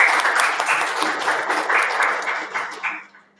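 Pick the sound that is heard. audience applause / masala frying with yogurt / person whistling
audience applause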